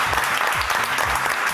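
Audience applause at a French TV talent show, dense steady clapping filling the room, loud and close throughout the short burst.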